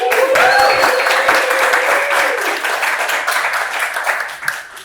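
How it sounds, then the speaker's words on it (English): Dense applause from a crowd at a motion design meetup, loud at first and gradually thinning out toward the end. "So a round of applause for that."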